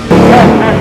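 A car engine revs close by in an outdoor setting, a steady loud drone holding throughout the short stretch with a voice over it.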